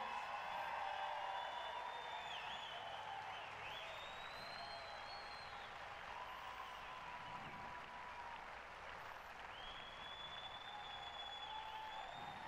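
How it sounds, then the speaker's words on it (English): Applause for the graduating class at a Cherokee Trail High School graduation in 2021, a large crowd's steady clapping held at an even level with faint whistles and whoops scattered through it. "Let's keep the applause going."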